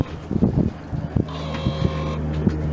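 A sailboat underway off Cairns near Double Island, with steady low engine-like hum and wind buffeting the microphone, water sloshing throughout, and a brief tonal whine in the middle; no talking.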